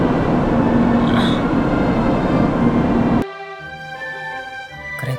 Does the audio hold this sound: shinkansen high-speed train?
yes